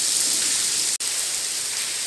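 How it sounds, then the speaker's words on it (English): Artificial rain falls steadily inside the Sharjah Rain Room, a continuous dense hiss of drops hitting the floor, broken by one very brief dropout near the middle. "So I'm inside the rain room. You can see it's raining here and I'm not getting wet."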